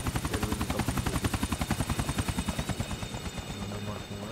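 A helicopter in the Grand Theft Auto 4 video game, its rapid rhythmic rotor thumping loud and close, then easing toward the end, with no talk over it.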